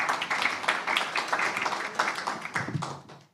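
An audience at a world law congress electoral-rules panel applauds a panelist, a dense burst of many hands clapping that holds steady, then tapers off over about three seconds.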